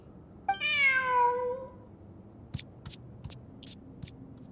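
A cat meows once inside the video game Genshin Impact, a drawn-out, clear call with rich harmonics, followed by a few short soft clicks and taps from the game over a low background hum.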